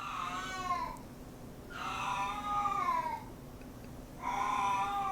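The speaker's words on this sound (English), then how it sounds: "Oh, cat." A cat meows three times in drawn-out, wailing cries with gaps between them, fairly loud over a steady low hum, as in an anime-style game setting.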